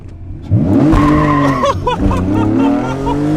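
A junkyard Honda NSX that sat for seven years revs hard into VTEC nearby, its engine note sweeping upward in pitch over about three seconds, with a quieter stretch in the middle.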